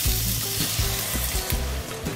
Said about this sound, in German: Das brutzelt hier jetzt so ein bisschen